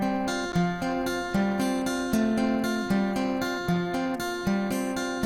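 The intro riff of a song on acoustic guitar, a steady repeating pattern of plucked notes with a regular pulse, clear and close with no voice.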